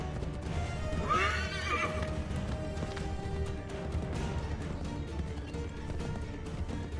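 A horse in the game Assassin's Creed 3 gives a loud, close whinny early on, followed by steady clip-clopping hooves that continue under the background.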